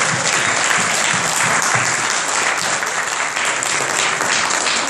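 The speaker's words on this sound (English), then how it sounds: "can we get a round of applause for the leaders that make that happen tonight?" An audience at a Cub Scout pack crossover ceremony claps for the pack leaders, a loud, dense, continuous applause that fills the room evenly throughout.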